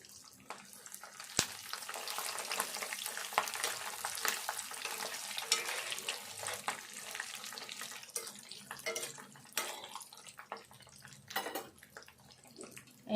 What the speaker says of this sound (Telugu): ఎండుమిర్చి కూడా మంచిగా దూరగా వేగాలి.